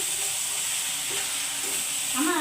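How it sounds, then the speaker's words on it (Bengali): Fried drumstick leaves with tamarind and sugar sizzle in a pan while being mixed, a steady close frying hiss with occasional scraping of the spoon toward the end. "আমি কিন্তু চিনি দিছি, তেঁতুল দিছি, খুব সুন্দর করে মিক্স করে দিচ্ছি।"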